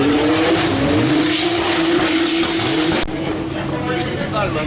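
A drift car at a Driftmasters event, exhausts exiting out the sides, holds a loud, steady, raspy engine roar with wavering revs near the listener, easing slightly partway through, with people talking in the background.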